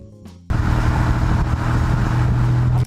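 A 1987 Buick GNX engine starts after a short quiet lead-in, then holds a loud, steady low rumble with a rising tonal drone, close by, before cutting off abruptly.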